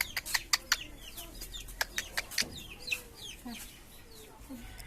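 Chickens cluck softly on a farm at feeding time, with a rapid run of sharp, close calls early on that give way to scattered quieter clucks and low murmurs.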